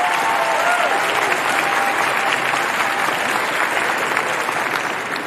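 A comedy show audience applauds in a dense, steady roar of clapping that holds loud and even for the whole stretch, easing off only slightly at the end.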